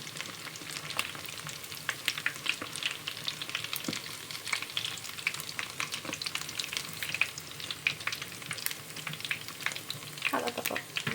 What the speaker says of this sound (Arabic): ونروح بقى على الزيت وننزلها في الزيت ونحمرها.